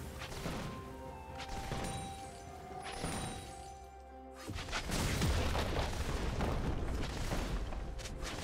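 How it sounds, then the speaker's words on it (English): A turret collapsing in League of Legends, a sudden crashing boom that erupts midway and rumbles on as loud, dense destruction noise after a quieter stretch of in-game effects and tones. "Team's turret has been destroyed."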